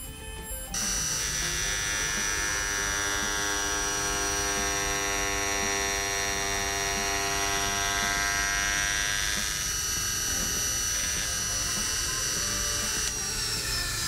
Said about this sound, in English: In this case, I'm cutting aluminium blanks, so a full depth of cut is dead easy for the cutter.